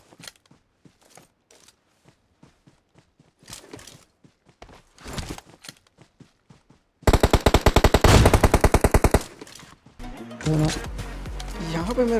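An M4 rifle fires in PUBG Mobile: a rapid, loud, close burst of automatic gunfire. Soft footsteps and speech come before it, and rumbling game sounds follow.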